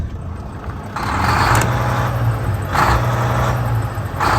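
A Volvo D13 diesel engine in a 2014 Volvo VNL670 truck idles with a steady low rumble, while a cooling fan whooshes and surges in several loud bursts over it.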